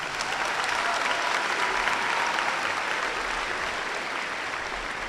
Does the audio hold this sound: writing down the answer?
no